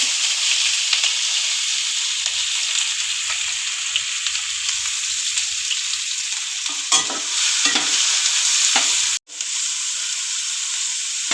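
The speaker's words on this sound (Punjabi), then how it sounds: "ਪਿਆਜ਼ ਨੂੰ ਆਪਾਂ ਮੀਡੀਅਮ ਮੀਡੀਅਮ ਗੈਸ ਤੇ ਭੁੰਨਾਂਗੇ" Onion and cumin frying in hot oil over medium gas give a loud, continuous sizzle with a few stirring scrapes and knocks toward the end and a brief drop near the close.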